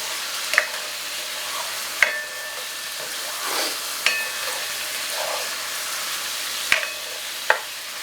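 Vegetables and seafood for paella frying in a pan, a steady hiss of sizzling with several sharp clinks of a utensil stirring and scraping the pan, close and without speech.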